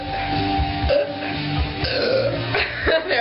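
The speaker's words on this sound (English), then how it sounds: "Oh, that was a belch." A long, croaky human belch rumbles out during a burping contest, loud and close, with a couple of rough pulses before it trails off.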